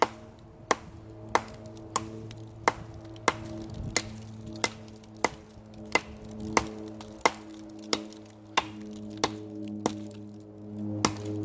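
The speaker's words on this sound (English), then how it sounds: "as we continue with chopping" A small JBA knife chops hardwood in steady, evenly spaced sharp cracks, about fifteen strikes at a regular rhythm. The blows are close and crisp over a constant low hum.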